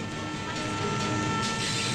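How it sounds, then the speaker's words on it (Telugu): A passenger train at a station rumbles steadily with a dense low mechanical drone and faint rhythmic rattling, continuous and fairly close throughout the short stretch, with no voices. "ట్రైన్ వెళ్ళిపోతుంది"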